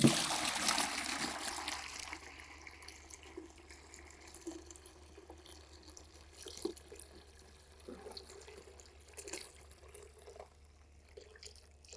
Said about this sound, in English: We're going to show you how just easy it is to use a bucket and drain that tank out.